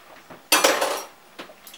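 Utensil scraping and clinking against a pot while stirring sauce, a short loud burst of metallic scraping followed by a fainter clink, close and with no talking.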